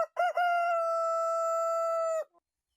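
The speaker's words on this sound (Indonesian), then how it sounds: "Seketika itu juga berkokoklah ayam." A rooster crows once, loud and close: a brief rising start and then a long steady, strongly pitched call held for about two seconds before it cuts off into silence.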